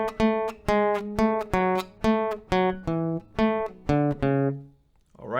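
On acoustic guitar, the intro melody of a song is plucked as a string of roughly a dozen clear single notes in an even rhythm, each ringing briefly before the next, close and alone.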